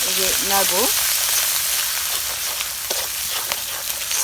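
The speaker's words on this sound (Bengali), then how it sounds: "আলু আর বেগুনটা এই মশলার ভিতরে দিয়ে দেই এই যে নাড়ছি" Potatoes and eggplant fry in spices in a pan over a clay stove, sizzling steadily while a utensil stirs them with occasional scrapes and knocks; a voice speaks briefly at the start.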